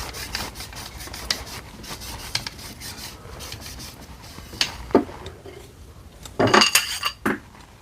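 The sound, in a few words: scrubbing inside a barrel while spinning it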